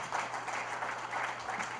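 Applause from a lecture audience after a political academy talk on climate crisis, a brief steady patter of clapping heard faintly and evenly throughout.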